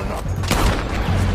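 Loud gunfire and an explosion burst in Red Dead Redemption 2 during a naval battle, a sharp blast landing mid-clip among crackling shots and low rumble.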